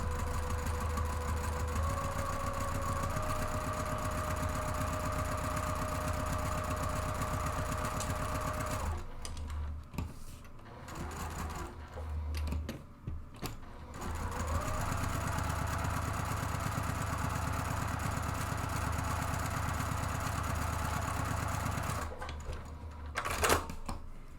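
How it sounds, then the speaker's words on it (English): A sewing machine runs a steady row of stitches down the open edge of a fabric purse organizer, droning loud and continuous with two short pauses where the fabric is adjusted, then starting again. "So I'm going to run a row of stitching down this open edge and the opposite edge to"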